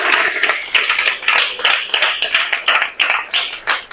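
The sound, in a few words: audience clapping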